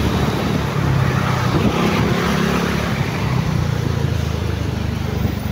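Trucks rolling along a busy Manila street, a dense, steady roar of traffic engines and road noise close by, with no clear speech.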